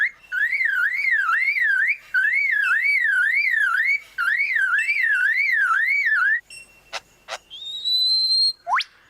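A superb lyrebird imitates a car alarm, cycling a loud, wavering siren-like whoop three times close by, followed by several sharp clicks and a rising whistle.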